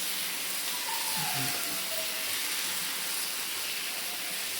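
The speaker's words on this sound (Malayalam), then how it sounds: "അപ്പോൾ ദോശ ഉണ്ടാക്കി കഴിയട്ടെ" Dosa batter sizzling on a hot pan, a loud steady hiss of frying that carries on continuously and close up, with faint background sounds beneath.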